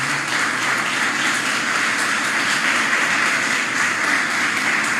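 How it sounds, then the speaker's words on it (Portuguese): A church congregation at a morning service gives a sustained round of applause, a loud, dense and even wash of clapping that holds steady from start to finish. "Você pode dar um aplauso a Jesus nessa manhã?"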